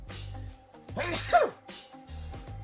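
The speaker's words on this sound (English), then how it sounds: "I'm sneezing." A single sharp sneeze bursts out in the middle, loud and close, between stretches of low background hum.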